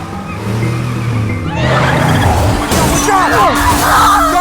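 A car crash in a Titans season 1 scene, with a loud engine surge, screeching tires and a burst of shattering impact noise, dense and close throughout.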